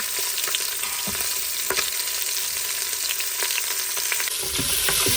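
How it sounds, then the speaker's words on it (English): Onion frying in avocado oil inside an Instant Pot, a loud, continuous close sizzle with repeated scraping stirs of a utensil across the pot throughout. "Give that a nice little stir. Let the onion brown a little bit too."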